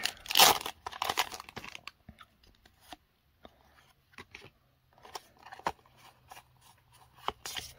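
A foil Pokémon booster pack crinkles and tears open near the start, a loud burst of crackling followed by sparse, quieter rustles and small ticks of handling.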